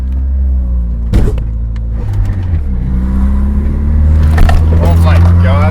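A Toyota AE86 with newly installed springs drives past with a loud, low engine rumble and road noise close up, with a couple of sharp knocks, while people talk over it.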